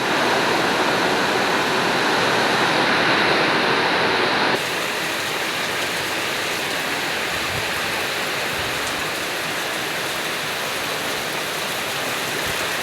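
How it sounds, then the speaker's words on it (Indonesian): Heavy rainstorm with strong wind in Siantar, a dense constant roar of pouring rain and gusts that dips slightly in intensity partway through, loud and unbroken, with no voices. "Anginnya kencang kali, hujannya kencang kali, berbanjir semua."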